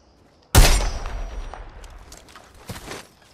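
Gunfire in the Apex Legends video game: a sudden loud, close burst of shots with a rolling, echoing tail, then a second, fainter cluster of shots before it dies away.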